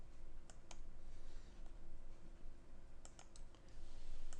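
Computer keyboard keys pressed for a Control Q shortcut: a few sharp, close clicks in short clusters over a steady low hum, no talking.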